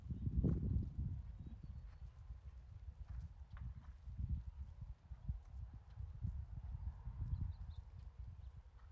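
Hoofbeats of a Standardbred horse ridden at a hand gallop during a polework schooling session, a steady rhythmic clip-clop of hooves on footing, moderately faint with a snort near the start.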